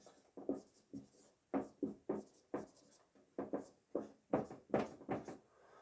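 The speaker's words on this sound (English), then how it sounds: "So what I'm going to do is I'm going to draw what we call a rhythm tree." Pencil or pen drawing a rhythm tree by hand on paper, heard as a rapid series of close scratchy strokes in uneven rhythm, with no talking.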